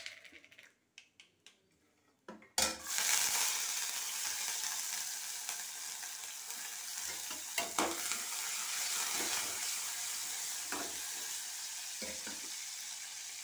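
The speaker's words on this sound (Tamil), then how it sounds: "தேங்காய் எண்ணெய் ஊற்றி எண்ணெய் காஞ்சதுக்கப்புறம் கடுகு, கருவேப்பிலை, வெங்காயம், இஞ்சி பூண்டு பேஸ்ட் போடணும்." Mustard seeds, curry leaves and onion hit hot coconut oil with a sudden loud burst of sizzling and popping, then settle into a steady close crackle with occasional utensil clicks; quiet handling sounds come before it.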